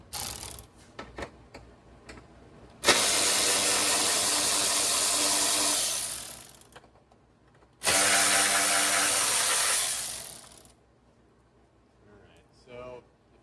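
A ratchet fitted with a 5mm socket turning bolts on a Gen3 KLR motorcycle, with two long, loud stretches of continuous clicking and short handling clicks between them.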